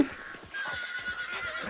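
A horse in the video game Hunt: Showdown gives a drawn-out whinny lasting over a second, with faint hoof clip-clops underneath.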